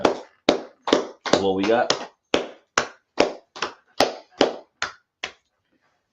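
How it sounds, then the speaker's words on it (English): Sharp, evenly spaced claps ring out about a dozen times in a steady rhythm as a class claps, close and crisp, with a brief spoken phrase in the middle and silence at the end. "let's clap it up for class now"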